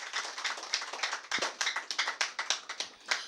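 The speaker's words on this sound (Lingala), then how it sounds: "Nakosenga bobeta maboko makasi" An audience at a Congolese music performance claps hands together in a steady, quick rhythm, a dense field of many overlapping claps heard at moderate distance with no talking.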